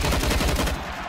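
Rapid automatic gunfire crackles in a Counter-Strike match during a professional esports event, loud, dense bursts of shots filling the short moment.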